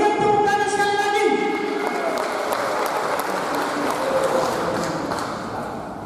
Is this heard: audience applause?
yes